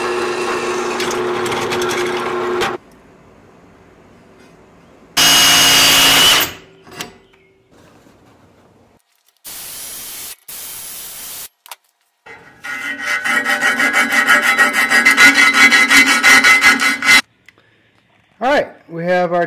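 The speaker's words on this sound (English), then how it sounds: "we need to cut some slots in each end of our angle iron to hold the strap" Cutting slots into the ends of steel angle iron for a vehicle hammock mount, heard as several separate loud bursts of harsh grinding and rasping, some short and one long sustained stretch, with quiet gaps between.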